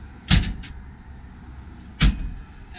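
Folding metal entry steps on a 2014 Enterra RV are swung up and stowed, giving two sharp, close clunks about two seconds apart over a quiet background.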